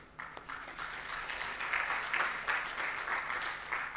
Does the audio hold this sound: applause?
yes